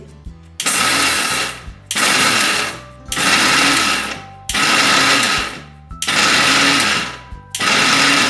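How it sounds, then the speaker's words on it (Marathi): A mixer grinder whirs in five short loud bursts, each about a second long, separated by brief pauses as it is switched on and off while grinding flaxseed chutney. "एकसारखं चालू न करायचा कमी जास्त कमी जास्त मिक्सर करून बारीक करायचं"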